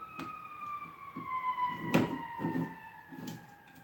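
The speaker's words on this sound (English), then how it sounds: "As the siren goes by, this is a good time to invite you to Chicago" A siren wails past with its pitch sliding steadily downward, fairly loud, over a low background rumble and a few dull knocks.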